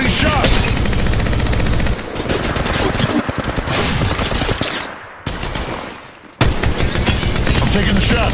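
Loud, close gunfire in the mobile battle royale game Apex Legends Mobile: dense automatic bursts fill most of the stretch, briefly dropping away twice before the shooting resumes at full force, with a voice speaking under the shots.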